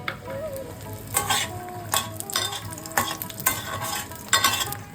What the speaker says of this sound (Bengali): আমি এখানে বিউলির ডালের বড়ি ভাজছি